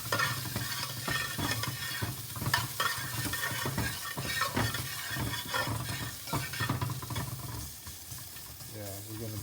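Onions for Jamaican brown stew fish being stirred and broken down in a pot, with steady scraping and soft sizzling throughout, close and continuous, under a busy kitchen background.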